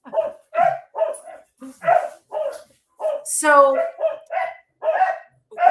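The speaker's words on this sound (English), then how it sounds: "the dogs are going crazy" Farm dogs bark in a burst of loud, excited yips and a whining cry, woven in among a person talking nearby.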